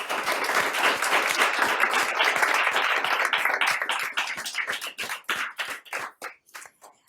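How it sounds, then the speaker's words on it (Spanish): Audience applause at a Women's Day event at a business school, starting as dense clapping from many hands and gradually thinning into a few distinct, separate claps near the end. "os voy a pedir un aplauso para todos"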